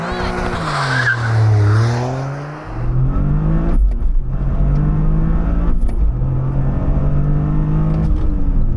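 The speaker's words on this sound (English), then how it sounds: "Now let's see how quick the Morizo edition of the GR Corolla is from 0 to 62 miles an hour." A Toyota GR Corolla Morizo edition launching hard from a standstill: a brief tire chirp, then loud revs that climb repeatedly, dropping at each of several quick upshifts as the engine pulls on.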